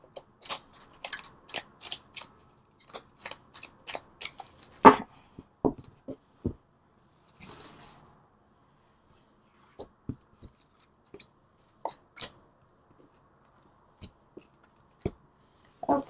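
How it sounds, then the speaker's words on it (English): Crisp riffling and tapping of tarot cards being shuffled, in quick bursts at first, then sparser snaps and taps with quiet gaps between. "Let me shuffle one more time."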